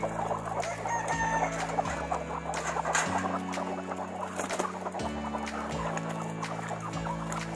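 Backyard hens in a rural Tamil flock cluck and chatter close by in short repeated bursts, with a rooster's crow mixed in and a steady low hum running underneath; no one speaks.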